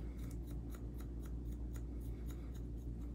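Sharp scissors snipping through hair during a short layered women's haircut, with a steady run of crisp, rapid cuts close by and no talking.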